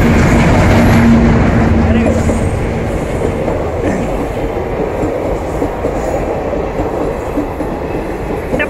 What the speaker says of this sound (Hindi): ये रोजा बरेली पैसेंजर ट्रेन